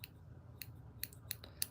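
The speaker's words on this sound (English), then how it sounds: "I love these scissors." Small scissors bought cheaply at a craft store snip during fly tying, five or six quick, crisp cuts spaced irregularly over a low room hum, close and faint, with no talking.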